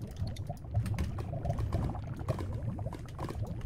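Water from a bucket is poured out in a Minecraft-style cave, giving a steady splashing, gurgling pour that runs throughout with busy clicks layered over it.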